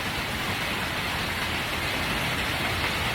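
Rain falls on a roof in a dense, constant hiss, loud and unbroken from start to finish with no other sounds standing out.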